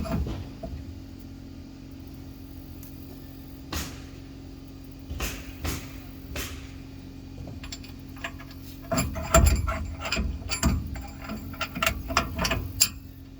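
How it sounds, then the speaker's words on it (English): Drive shaft going into a Nissan Frontier with the transmission in neutral after a differential rebuild: scattered metallic clunks, taps and rattles at close range, irregular and spread over the span, with a low steady hum underneath and no talking. "Put the drive shaft in."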